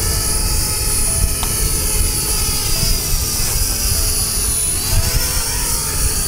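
A C-ME selfie camera drone with GPS descends to land, its small rotors giving a steady, close, high-pitched whine with a constant buzzing hum throughout and no talk.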